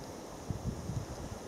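Strong wind buffets the microphone beside a fishing pond, a constant low rumbling roar with faint rustling and no one speaking.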